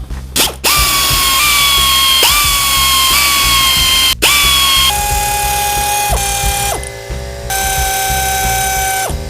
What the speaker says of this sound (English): I'm going to loosen each of these 10 millimeter bolts little by little so this thing comes off kind of evenly